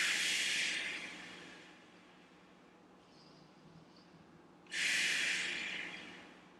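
Two deep, slow breaths drawn close to the microphone during a hip-extension stretch, each a long airy inhale with a gentle tail, separated by a quiet pause.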